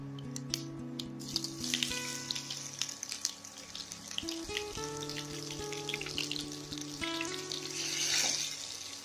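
Chopped ginger, garlic and green chili hit hot oil in an egg roast pan with a steady, close hiss of frying that runs the whole time beneath soft background music, with no talking.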